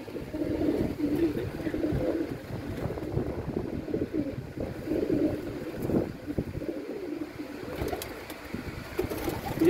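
Pigeons coo steadily and close by while they are caught and handled for wing opening and colouring, with soft rustling and shuffling underneath throughout.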